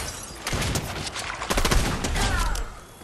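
Infiltrator pump shotgun in Fortnite fires in loud sharp blasts, several reports clustered close together amid gunfire and booming impacts.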